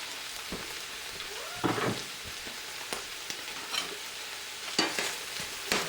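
A utensil scrapes and stirs through a pan as garlic is mixed into leftover pulled pork, the quiet sizzle underneath broken by a few louder scrapes.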